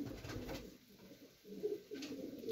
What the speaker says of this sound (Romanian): Cred eu că acesta este cel mai valoros porumbel al meu de prăsilă.